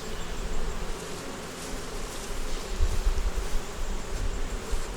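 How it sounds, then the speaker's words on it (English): Honey bees buzz steadily and densely around stacked hive boxes of three-deep eight-frame hives, a close, continuous drone that swells slightly toward the end. "A lot of bees in there"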